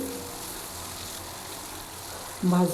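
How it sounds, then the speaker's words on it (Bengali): Pangas fish pieces fry crisp in hot oil with a steady, even sizzle throughout, ending in a brief louder clatter near the close. "দেখো আমি খুব কড়া ভাজা দিয়েছি মাছগুলো"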